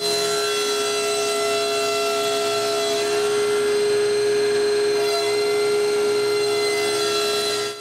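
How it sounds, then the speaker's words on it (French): A saw cuts through two clamped wooden side panels at once. A loud, steady whine with a constant high-pitched tone runs close and unbroken, then drops off at the very end. "je mets une serre pour bien retenir ça ensemble pendant que je coupe les 2 côtés en même temps"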